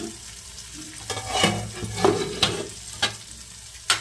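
Okra frying in a pan is stirred with a spatula, soft sizzling under several distinct scraping strokes at an uneven pace, close and without speech.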